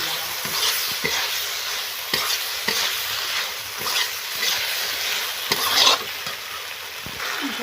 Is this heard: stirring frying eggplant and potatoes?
yes